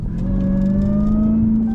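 Car engine revving with a pronounced whine, a loud steady drone with rising tonal pitch held close by for under two seconds, with no talking.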